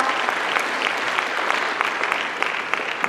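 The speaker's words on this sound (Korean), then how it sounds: "지방정부의 미래를 위해 다같이 뜨거운 박수 보내주시기 바랍니다." Warm audience applause fills the hall at the launch ceremony of the Chungcheong regional special local government, a steady dense patter of many hands clapping throughout.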